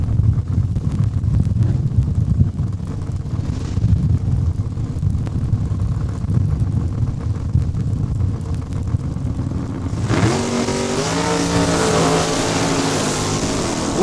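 An '84 Mustang and a Pontiac Acadian drag racing at Saskatchewan International Raceway, with loud, sustained engine roar close by, building to a sharp rising rev near the end.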